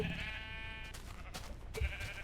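A sheep bleats in the Minecraft video game: one drawn-out, wavering synthetic bleat at the start, followed by short clicks and a brief thump. No one talks.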